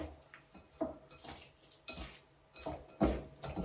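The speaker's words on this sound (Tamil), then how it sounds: "வெண்டைக்காயை மிக்ஸ் பண்ணால் போதும்." Sliced okra being mixed into a raw chutney in a bowl brings a series of close, irregular scrapes and clinks of a spoon against the dish, with short quiet gaps between strokes and no talking.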